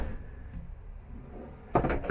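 A mirrored wardrobe door in the main bedroom of a 2021 Grand Design Reflection 311BHS travel trailer slides or swings shut with a single sharp clack near the end, after quiet room tone.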